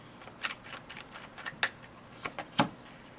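Tarot cards are drawn one by one from a deck, making a few soft, separate flicks and snaps of card stock close by in a quiet room.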